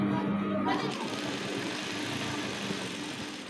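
A sewing machine stitches through a straight skirt and its lining, a close, steady mechanical whirring hum with a soft rhythmic chatter, while a voice talks briefly over it.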